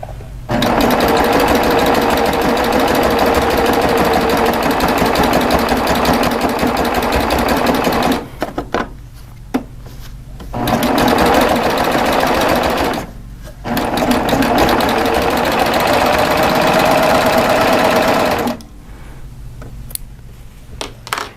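A serger sewing machine trims and overlocks a raw fabric edge on a half-square triangle, loud fast whirring runs in long bursts separated by short pauses.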